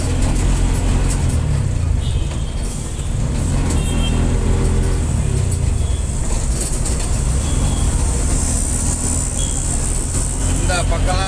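A vegetable loading vehicle drives along a fairly clear road, its engine and road rumble loud and steady throughout, with a person talking over the noise.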